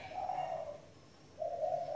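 A decoy dove coos twice, soft drawn-out calls separated by a short pause, heard close over a steady low background hiss.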